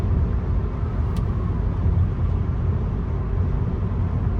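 Car cruising fast on King Fahad Road in Riyadh, heard from inside as a steady low road rumble and engine drone that holds constant throughout, with no talking.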